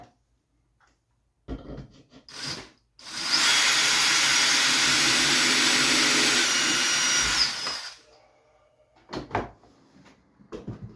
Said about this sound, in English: All right, so that's my new drill. I'm gonna use it for a bit